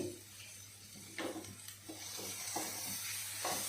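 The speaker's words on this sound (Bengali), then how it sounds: "4-5 মিনিট একসাথে পেঁয়াজ রসুন কাঁচামরিচ ভেজে নিব" Onion, garlic and green chilies frying together in a pan, a steady soft sizzle with several spoon strokes scraping through at intervals, all near and moderate in level with no voices.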